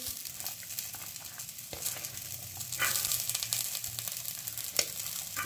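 Onion, broccoli and peas sizzle steadily in a hot frying pan, a continuous close crackle broken by occasional stirring scrapes and a few sharper pops, with no talking.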